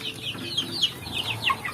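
Chickens on a free-range village chicken farm clucking in quick, overlapping bursts, fairly close and moderately loud over a low background hum, with no talking.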